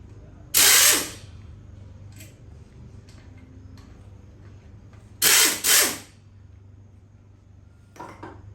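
Ratcheting wrench bursts loosening bolts on the engine plate of a 2000 22-inch Craftsman lawnmower, close and loud in short spurts separated by quiet clinks and handling noises.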